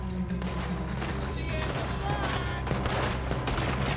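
Rapid overlapping gunfire from a Red Dead Redemption 2 shootout, steady and dense under excited shouting, with sharp shots standing out near the end.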